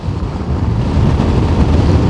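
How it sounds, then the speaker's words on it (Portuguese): Steady wind buffeting a microphone outdoors during a road cycling race stage, a continuous low rushing roar with no talk. "hoje venta mais."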